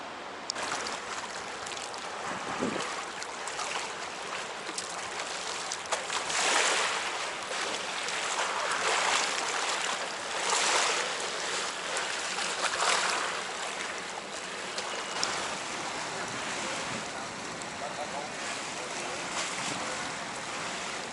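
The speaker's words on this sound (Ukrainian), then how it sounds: "Ці баржі пароплави, катери туристичні і так далі, круїзні. Постійно. Постійно туди-сюди ходять." Barges, steamers and cruise boats pass on the Rhine in Cologne, a broad, steady wash of water and distant engine rumble with wind, faint and continuous.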